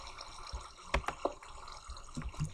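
Water in Minecraft, a quiet sequence of drips and splashy trickles at irregular intervals, close and soft.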